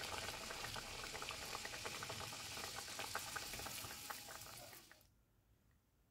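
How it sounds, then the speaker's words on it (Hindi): Sattu puris deep frying in hot oil for a Bihari meal, a dense steady bubbling hiss that runs on evenly and then cuts out near the end. "इसी तरह से बाकी का भी पूरी हम फ्राई कर लेंगे"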